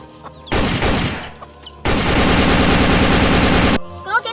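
Rapid automatic gunfire from the shooter game Free Fire rips out in two loud, close bursts, a short one and then a longer sustained volley, with brief quieter game sounds around them.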